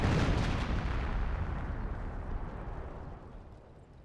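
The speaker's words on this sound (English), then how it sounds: "Wehrmacht landmine." A Wehrmacht landmine detonates in the Company of Heroes strategy game: one loud, close boom whose rumbling roar tails off gradually over about four seconds, with no voices over it.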